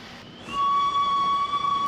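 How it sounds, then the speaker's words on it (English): A steam engine's whistle on a railway starts abruptly and holds as a shrill, steady, loud tone for well over a second with no voices. "Just then they heard a whistle and Helen rushed through on the middle line"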